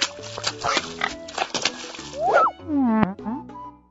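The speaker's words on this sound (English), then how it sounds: "Pig." A cartoonish pig oinks in a short burst of squeals and grunts, close and clear, following a bit of playful music in a children's animal alphabet lesson.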